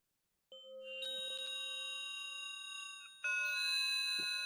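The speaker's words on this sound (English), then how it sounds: "leaving these bells to play" Synthesized bells in a Csound piece ring out in sustained, shimmering tones, then a second set of strikes adds brighter layered tones partway through. The sound is quiet and clean with no voices.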